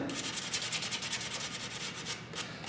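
Steady back-and-forth sanding strokes rasp against the sealer-coated finish of a model airplane in a quick, even rhythm, close and continuous with no voices.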